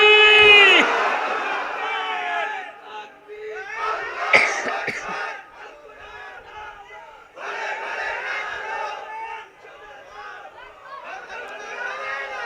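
A crowd at an outdoor Islamic sermon (waz) shouts the takbir response in loud bursts of many voices, rising and fading several times with brief gaps, along with some coughing.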